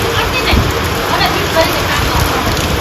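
Heavy rain pouring down over village farm fields, a dense, loud, continuous wash of noise with no let-up, while people talk faintly underneath.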